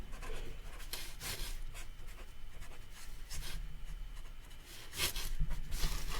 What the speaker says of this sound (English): Let me just write that.